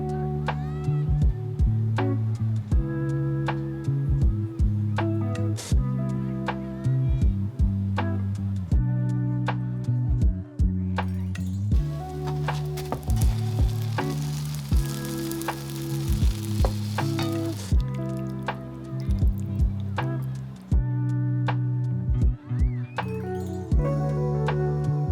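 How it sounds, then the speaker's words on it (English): Cooked Creme d'Argent meat rabbit is stirred into a pot of white rabbit chili, giving a continuous sizzle with soft stirring scrapes and faint clinks beneath steady background music. "So we're gonna mix that in to the chili."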